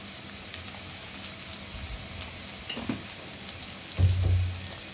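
Spice masala of turmeric and chili powder frying in a pan for egg dal, giving a quiet, steady sizzle with a brief louder burst of frying near the end.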